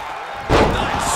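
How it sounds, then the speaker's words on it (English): A wrestler drives an opponent down with a scoop slam onto the ring mat, one sudden heavy thud that swells into the roar of a large arena crowd for a vintage WCW Saturday Night show. "Nice scoop slam."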